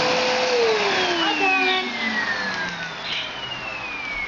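A household vacuum cleaner runs loudly and close, its motor whine shifting in pitch with sweeping tones as it moves, while a person briefly speaks over it.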